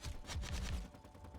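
Gatling turret gunfire in the Space Engineers video game, a short, fairly faint rapid burst of repeated shots that fades out after about a second.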